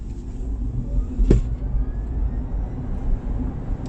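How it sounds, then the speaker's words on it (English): A 2019 BMW i3 electric car pulls away with a smooth, low whirring whoosh that rises and holds steadily, with a short sharp click near the start and no talking. "So it's kind of a whirring whoosh sound."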